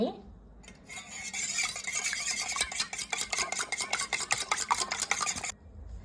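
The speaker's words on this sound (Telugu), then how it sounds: "తీసుకున్న ఈ ఎగ్స్ని బాగా మ్యాష్ చేసుకోవాలి" Eggs beaten in a bowl for an omelette, a fast rhythmic clatter of a utensil whisking against the bowl, close and loud, building to a quick steady beat before stopping abruptly.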